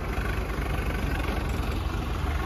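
A tractor engine idles steadily at close range, a continuous low rumble with a dense mechanical drone and no break over the short stretch.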